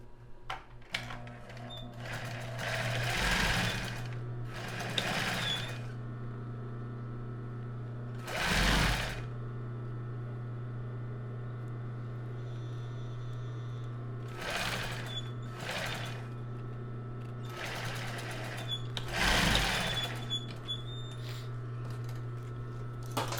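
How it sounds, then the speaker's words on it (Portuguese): A sewing machine stitches a straight seam joining the side of a fabric strapless topper, in short whirring bursts separated by pauses, over a steady background hum. "Então agora eu vou passar uma costura reta aqui unindo essa lateral"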